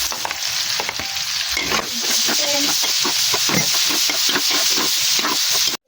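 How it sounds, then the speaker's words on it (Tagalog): Onions fry in a pan for butter shrimp, giving a loud, steady sizzle broken up by repeated scraping strokes of a stirring utensil before a sudden cutoff. "lalagay na natin ang sibuyas"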